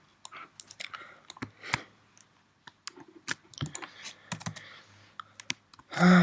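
Code being typed on a computer keyboard during a programming test: irregular bursts of close, clattering keystrokes with short pauses between runs, ending in a louder thump, with no talk over it.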